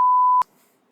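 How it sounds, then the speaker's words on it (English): A single steady censor bleep tone, loud and clean, holds for under half a second, then cuts off abruptly and leaves near silence. "I'm gonna bleep that out too, like massive beep."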